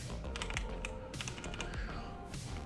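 Quick, continuous tapping on a computer keyboard in a Windows search box, close and moderately quiet, with a brief pause near the end.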